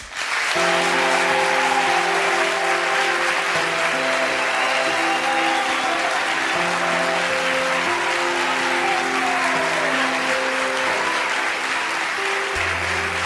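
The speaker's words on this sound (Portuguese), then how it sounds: "Un aplauso para Amalia e Osvaldo" Loud, sustained applause from a TV studio audience welcoming a married couple from Portugal onto a talk show, continuous for the whole stretch with sustained musical tones running beneath it.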